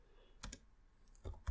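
A few short bursts of keys tapped on a computer keyboard while a command is entered at a Linux terminal, with quiet pauses between the clusters of keystrokes.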